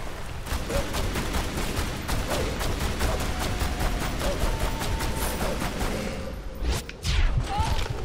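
Gunfire from a wolf fight in Tomb Raider: Anniversary on Xbox 360, in Peru's Lost Valley: a long, rapid, evenly paced string of shots over game ambience, ending with a couple of louder whooshing blasts.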